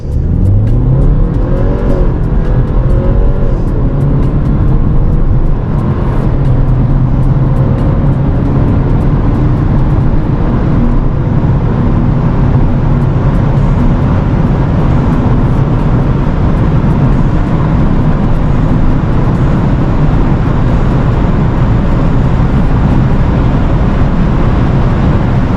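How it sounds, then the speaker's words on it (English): A 2015 Mercedes-Benz A-Class with 184 hp accelerates hard under manual shifting, its engine a loud, steady, close drone that climbs in pitch and holds strong throughout. "Really fast car, really fast, and it has only 180 horsepower, but it's really quick"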